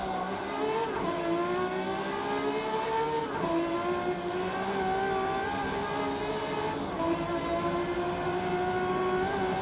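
A 1970 Ferrari 512S racing around the 1967 Nurburgring GP in Assetto Corsa, its engine holding a loud, steady roar with rising and falling pitch as it shifts and revs through corners for the whole stretch.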